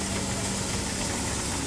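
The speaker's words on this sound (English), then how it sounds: "A McLaren engine. It's a double crank compound engine." A 3-inch scale miniature McLaren double crank compound traction engine running at a steam rally, giving a continuous loud mechanical rumble and chuffing with no gaps.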